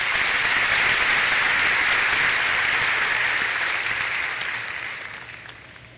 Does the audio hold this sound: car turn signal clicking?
no